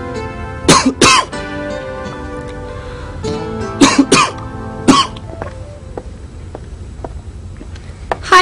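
Several bursts of harsh coughing, some in quick pairs, with a throat clear, close by against quiet background hum.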